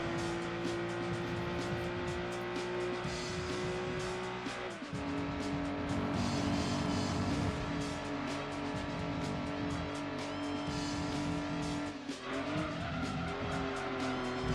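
Car drifting with tires squealing in the racing game Gran Turismo 2, a steady engine drone with sustained skid tones that shift pitch twice as gears change, loud and continuous.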